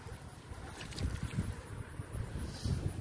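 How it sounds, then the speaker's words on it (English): Strong wind whipping across a backyard pond, a steady rushing roar with low gusty buffeting against the microphone, rising and falling in short surges throughout. "This wind is really whipping, so it's kind of kicking our butt."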